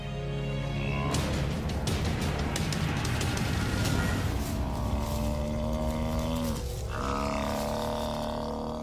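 African buffalo bellow in the Botswana wild as lions hunt nearby, loud, drawn-out groaning calls that overlap and rise and fall, heard close amid a noisy, roaring background.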